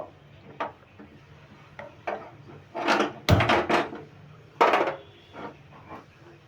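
Milk being stirred in a pan on a gas stove while it thickens into khoya, with irregular scraping and knocking of the spoon against the pan, some strokes louder and sharper, near and without talk.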